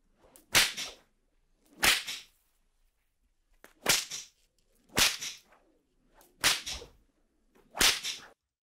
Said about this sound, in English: Do you think the whip cracking sounds good or not?